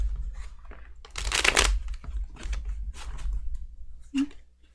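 Tarot cards are shuffled by hand in soft, crisp bursts of riffling and sliding, fairly close and quiet, with a stronger flurry near the start and scattered light taps afterward.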